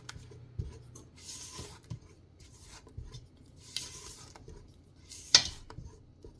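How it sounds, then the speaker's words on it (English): A spatula or spoon scrapes and folds a dry flour mixture into wet cake batter in a bowl, soft intermittent swishes and scrapes with occasional light clinks against the bowl, close and quiet. "now we started to put our dry mixture in. We're going to do like a cut and fold method to get it all mixed in"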